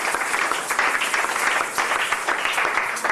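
A church congregation applauds the Lord with loud, sustained clapping that fills the space evenly, a dense steady roar of many hands with no voices rising above it.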